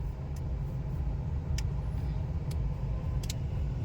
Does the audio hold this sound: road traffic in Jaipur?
yes